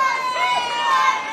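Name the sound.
boxing arena crowd cheering for hometown fighter Kieran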